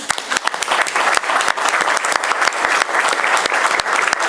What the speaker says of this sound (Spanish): Nos merecemos todas, todes un gran aplauso.